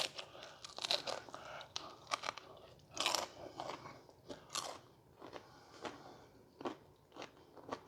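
Close, crisp crunching bites into a fried egg roll wrapper pie with caramel apple filling, several sharp crackly bursts followed by chewing, with no talk.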